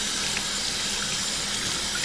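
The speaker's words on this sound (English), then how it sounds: "get the water on." Kitchen sink faucet running steadily, a continuous broadband hiss of water pouring into the basin, close and even throughout with no talking.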